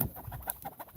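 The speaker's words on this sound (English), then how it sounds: "Chickens." Chickens clucking close by, a short burst of rapid, overlapping calls from a small flock with a brief sharper note midway.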